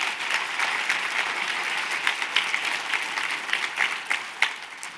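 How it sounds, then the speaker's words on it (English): An audience at a leadership talk gives a final round of applause for the speaker Justin, moderately loud steady clapping with scattered sharper claps, fading slightly toward the end. "One last applause for Justin"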